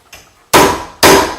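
Two sharp metallic raps with a hammer on a door strike plate, striking its targets to mark an interior door with a pin. The hits are loud and close, about half a second apart, and a softer tap comes before them.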